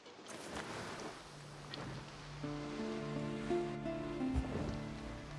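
Ocean waves wash steadily around a shipwreck on a shore in the video game Wartales, a continuous surf wash with a low hum of music underneath, no speech.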